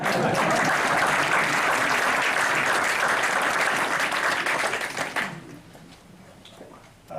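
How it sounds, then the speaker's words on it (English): Audience at a town hall breaking into sustained applause, dense and steady for several seconds before fading into scattered claps and quiet. "We clap for Copa."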